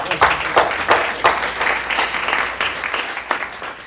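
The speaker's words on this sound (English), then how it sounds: "let's give her another round of applause" An audience at a literacy summit gives a round of applause, a sustained wash of many hands clapping at close range that gradually thins out.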